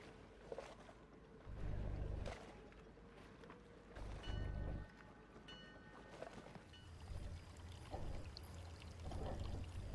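Water glugs and splashes out of a bottle in the video game Foolish Mortals, a quiet pour heard in several short bursts that run into a longer, steadier stream toward the end.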